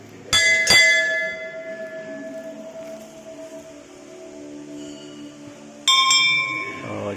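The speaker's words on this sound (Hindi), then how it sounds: "और यहाँ है घंटी।" Two sharp strikes of a metal bell at the Siyadevi Hindu temple in Balod, Chhattisgarh, ring close and loud with a long shimmering decay, and a third strike comes after a pause near the end.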